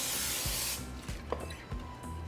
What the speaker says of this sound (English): we're going to lightly spray it with some non-stick cooking spray